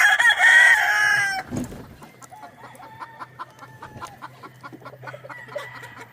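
A brown-red rooster lets out one loud, close crow, then hens keep up a scattered run of soft clucks against a low, steady farmyard hum.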